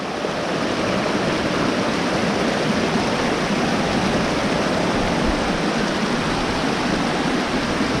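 A Colorado mountain creek, Horn Fork Creek in Horn Fork Basin, rushes over rocks close by, giving a steady, loud, unbroken wash of water with no pauses and no voices.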